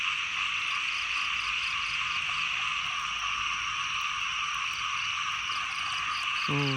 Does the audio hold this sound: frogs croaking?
yes